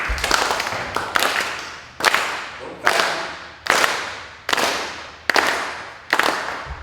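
An audience claps in unison to a military Christmas song, sharp loud claps in a slow steady rhythm about once every 0.8 seconds, each ringing briefly in a reverberant hall.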